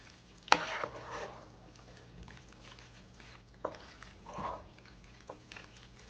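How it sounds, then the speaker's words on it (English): Cooked macaroni noodles are stirred into a thick cheese sauce: a few sticky, wet squelches and soft clicks rise from near-silence, with quiet gaps between them and no voices. "Now my favorite part, mixing the noodles and the cheese sauce together."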